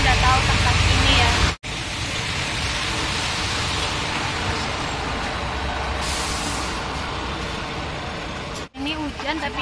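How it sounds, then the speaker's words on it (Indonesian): Rain falls on a Hong Kong street with a constant hiss and a low traffic rumble. Two brief cutouts break the sound, and a voice is heard faintly near the end. "Ini hujan tapi saya nggak pakai payung."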